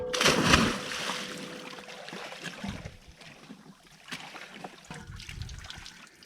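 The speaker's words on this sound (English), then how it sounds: "I'm swimming here because when you live on a boat, you have to make use of the water, which is always surrounding you." Water splashes and trickles while a swimmer moves in warm sea water beside a liveaboard sailboat in the Florida Keys; a louder burst of splashing comes first, then softer lapping and dribbling continues close by.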